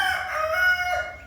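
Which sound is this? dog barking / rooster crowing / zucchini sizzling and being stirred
rooster crowing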